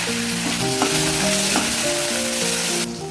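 Ginger paste, chopped tomato and green chilli frying in a pan, a loud, steady sizzle that continues without a break, with occasional soft stirring sounds and no talk.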